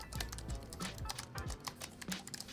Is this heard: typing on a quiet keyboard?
yes